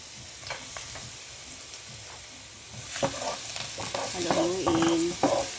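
Garlic sizzling as it is stirred in a hot frying pan for carbonara, a steady close fry hiss that gets louder with scraping stirs partway through.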